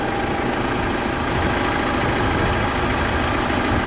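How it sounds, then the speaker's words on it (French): A large diesel truck engine idles nearby on a farm, a constant low rumbling throb that holds steady throughout without any talking. "il y a le camion qui arrive."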